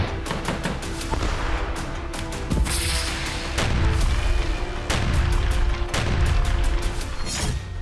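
Repeated loud explosions and sharp blasts crack in quick, irregular succession, some booming deep, over a rumbling background like heavy artillery, from war in Ukraine.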